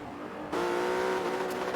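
A Porsche race car engine in a GT racing video game, a steady droning note that jumps louder about halfway through and holds at a high, sustained pitch.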